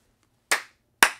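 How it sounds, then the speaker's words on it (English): Two sharp hand claps, about half a second apart, each a crisp close snap with a quick decay, struck at the start of an interview to sync sound and picture; quiet room otherwise. "Did you give us a nice clap to sync the audio and video?"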